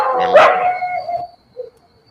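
A dog gives one loud, drawn-out bark-howl that fades into a tonal tail, followed by a short quieter yip and then silence.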